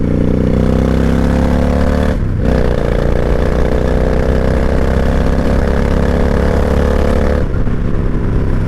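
A 1998 Honda Shadow 1100 motorcycle engine revs up loud and close in a slow, steady climb, with two brief dips in the drone along the way and no talking.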